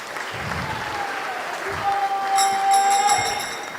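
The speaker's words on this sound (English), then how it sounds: "Please give them a round of applause in support." Steady applause from a temple audience for a children's Govardhan Puja enactment at ISKCON Phoenix, a continuous moderate clapping wash with faint tonal sounds rising near the end.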